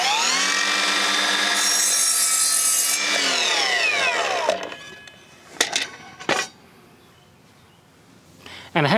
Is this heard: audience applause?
no